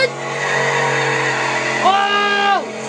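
A Chevrolet Camaro drives past close by, its engine note steady and then sweeping down as the tires give a brief squeal, with voices talking over it.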